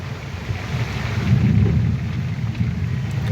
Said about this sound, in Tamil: நல்ல கிளைமேட்டு, நல்ல மழை சாரல் பெய்யுது